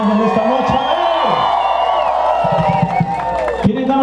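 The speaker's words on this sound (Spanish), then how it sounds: "un aplauso para el ser más maravilloso del planeta que son las damas y nos acompañan esta noche" A crowd at a live concert night cheering and whooping, a dense roar of many voices with shouts rising above it and a few claps, loud and sustained, under an amplified voice addressing the audience.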